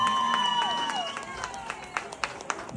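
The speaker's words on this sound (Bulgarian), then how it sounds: "Аплодисменти за тях двамата." An audience at a wedding celebration claps and cheers for a couple, scattered applause building under a held singing voice and sustained music tones.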